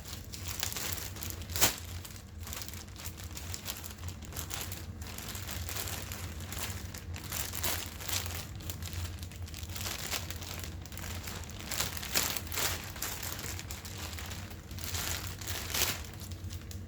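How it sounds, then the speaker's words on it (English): Bass combo amp packaging being cut and torn open, with continuous crinkling and rustling of cardboard and plastic bag close by, plus a few sharper crunches and rips throughout, with no talking. "Start by cutting this open here."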